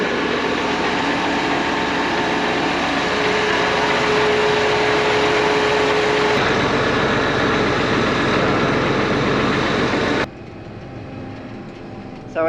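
A John Deere tractor engine runs steadily and loud for about ten seconds with a constant droning hum, then the sound drops off sharply to a quieter rumble near the end.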